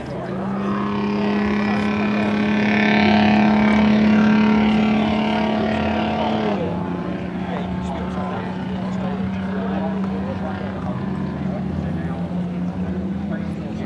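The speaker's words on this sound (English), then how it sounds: "Willys Jeeps." Willys Jeep engines at a military vehicle show in Market Harborough, Leicestershire, produce a steady loud rumbling drone throughout, shifting pitch midway as vehicles pass close by, with a voice talking over it.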